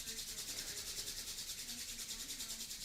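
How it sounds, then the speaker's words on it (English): Palms rubbing together briskly to build heat, a steady close swishing friction with a regular back-and-forth rhythm and no talk. "So let's rub our hands together."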